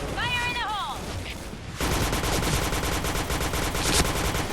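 Rapid automatic gunfire in the Point Blank shooter game starts abruptly and runs as a dense, steady stream of close shots to the end. Electronic game tones are heard just before it.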